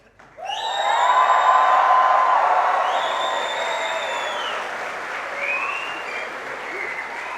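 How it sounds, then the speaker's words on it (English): Graduation ceremony crowd in a university hall erupts into loud applause with cheering, whoops and high shouts, sustained for several seconds and easing slightly toward the end. "Can I have a proper cheer for everybody,"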